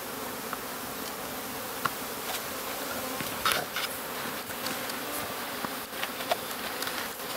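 Honey bees hum in a dense, steady drone as a newly arrived package is tapped into a hive outdoors, the swarm buzzing continuously and close with a few sharper passes of individual bees.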